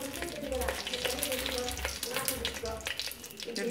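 Oil and whole spices fry in a pressure cooker with a dense, steady sizzle and crackle, heard close and fairly soft, with occasional small pops.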